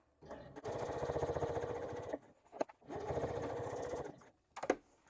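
A sewing machine stitches the side seam at the edge of a lower pocket piece on a beginner crossbody bag. Two close bursts of rapid, even stitching, each about one and a half seconds, are split by brief pauses with small handling clicks.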